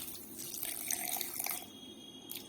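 Water is poured into a pot of beef in a home kitchen while preparing Christmas Eve food. The pour is a faint, continuous splashing trickle, heard close and quiet with no talking.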